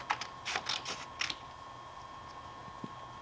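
Paper pepakura pieces for Halo armor being cut out: a quick run of crisp snips and rustles at close range, then near silence with one faint tick.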